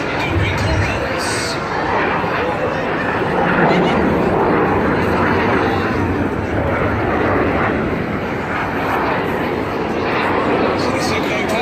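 Red Arrows synchro pair jets flying Winkle Rolls over Weymouth, a steady loud roar of jet engines that swells and holds throughout, with crowd and a voice faintly underneath.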